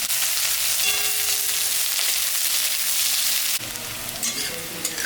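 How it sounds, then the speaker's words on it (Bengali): Cumin, dry red chillies, green chillies and onion hitting hot oil in a pan, a loud, dense sizzle that fills the first three and a half seconds, then drops to a quieter steady frying hiss. "তেল গরম হয়ে গেছে, আমি জিরা আর শুকনো লঙ্কা সম্বরণ 4টা কাঁচা লঙ্কা দিয়ে দিলাম, পেঁয়াজটা দিয়ে দিলাম।"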